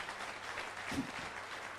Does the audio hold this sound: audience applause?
yes